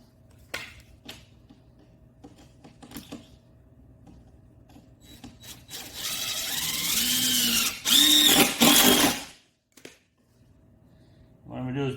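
A power drill drives a screw into a wooden board. After a few quiet clicks and handling noises, the motor whirs loudly for several seconds, stops abruptly, and briefly restarts. Someone speaks faintly in the background.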